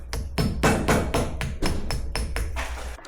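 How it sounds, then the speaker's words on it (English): Sharp metal-on-metal hammer blows drive a pin out of a KitchenAid stand mixer with a small punch, about nine close, evenly paced strikes, each a bright ringing tap. "Let's get a little punch or a really thin screwdriver, and I'm just gonna attempt to hammer this out."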